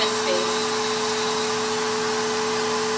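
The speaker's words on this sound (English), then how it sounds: "This is what it looks like without the vacuum. This is with the vacuum." Erica's MT-20 nail vacuum running, a steady whirring motor hum with a constant tone throughout.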